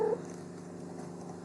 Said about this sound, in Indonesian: Aduh, ini ada kucing saya nih.